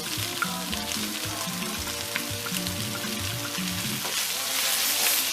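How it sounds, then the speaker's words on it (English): Chopped fresh tomato goes into onion and chicken gizzard frying in a pot for cabbage stew, bringing a loud, dense sizzle and crackle with some stirring, and no voices. "I'm now going to add my chopped fresh tomato"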